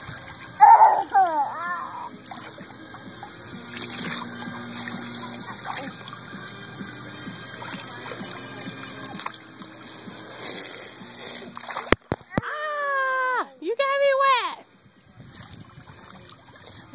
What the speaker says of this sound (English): let's stop rinsing his hair